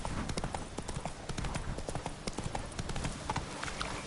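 Roach the horse gallops in The Witcher 3, a dense, quick run of hoofbeats close up and loud, with faint game ambience beneath.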